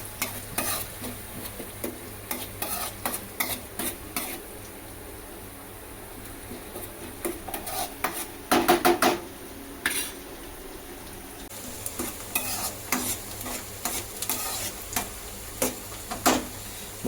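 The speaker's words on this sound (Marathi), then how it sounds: "मस्तपैकी कांदा आपण लाल करून घेऊया." Onions frying in a pan while a utensil stirs them, a quiet sizzle under repeated bursts of metallic scraping and clinking against the pan, close by and with no speech.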